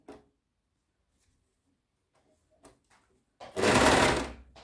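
Faint clicks and taps of fabric handling lead into a short, close burst of a sewing machine stitching elastic onto pajamas, lasting about a second before stopping.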